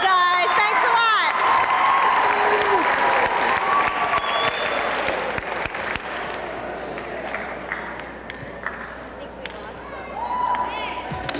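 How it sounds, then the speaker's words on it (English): Student council conference audience applauds and cheers with whoops, loud at first and gradually easing, with voices and shouts mixed through the crowd noise. "Give yourselves a round of applause."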